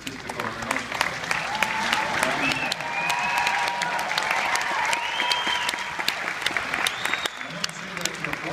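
A large conference audience at Dreamforce 2013 breaks into sustained applause, with sharp individual claps standing out over the dense clapping and whistles and cheers rising above it.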